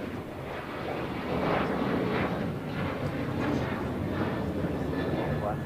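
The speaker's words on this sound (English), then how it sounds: "This is Alaska Airlines Flight 6 taking off to Washington Reagan National on a 737-800" Alaska Airlines Boeing 737-800 taking off at LAX, a broad rushing jet roar heard from a distance, steady and swelling slightly with wind buffeting the microphone.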